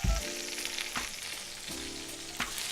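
Meat with a thick fat cap sears in a hot pan of olive oil, a steady loud sizzle and crackle running throughout with a couple of brief sharper spits, no voices.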